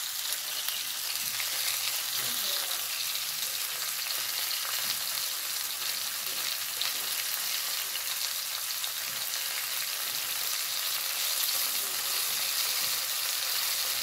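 Fish frying in plenty of hot oil, a dense, steady crackling sizzle that holds at an even level throughout with no voices over it.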